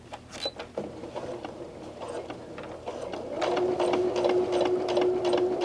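A sewing machine stitches cotton fabric for medical masks, its needle chattering in a rapid steady rhythm up close that starts slower and then runs faster and louder for the final seconds.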